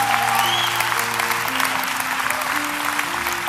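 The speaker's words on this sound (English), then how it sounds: "Clap, man, help me out here." An audience claps steadily through a church sermon, a dense, even wash of applause that holds its level from start to finish, with sustained musical tones sounding underneath.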